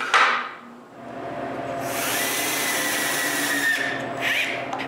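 A power drill drives screws into a wooden tripod's centre section, a steady whining run of several seconds close by after a brief initial burst, with no talking.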